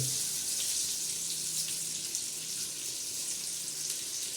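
Mackerel fry in oil in a pan, making a steady, soft, hissy sizzle that stays fairly faint and even throughout, with no speech.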